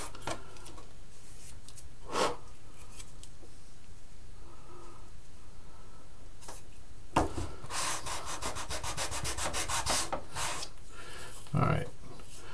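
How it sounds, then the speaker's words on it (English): A City Classics service station model wall is sanded back and forth, giving soft, faint rubbing strokes that repeat in bursts, growing into a faster run of scrapes near the end. "that's so I'm sure I'm keeping the wall level while I'm sanding it"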